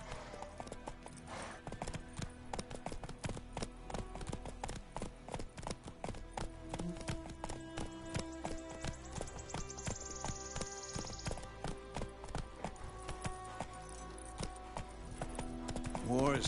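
Hooves of Roach, the horse in The Witcher 3 video game, clip-clopping in a steady brisk rhythm close by, continuous throughout, with music and voices talking over it.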